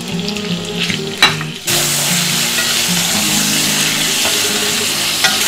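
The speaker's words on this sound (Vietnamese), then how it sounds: "Sau khi chảo đã nóng thì chúng ta sẽ cho thịt vào nhé." Meat drops into a hot, oiled pan with a brief clatter, then a loud, steady sizzle of frying fills the rest, heard alone without voices.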